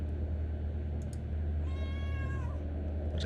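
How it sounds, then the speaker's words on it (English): A cat meows once in the video game Kentucky Route Zero, a single drawn-out call over a steady low ambient hum. "There's a cat there."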